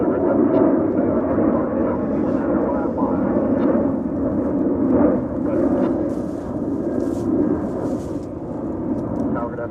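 A jet airliner on a Dallas to Bozeman flight rumbles at DFW airport in Texas, a steady broad roar holding throughout at fairly close range, with people talking over it.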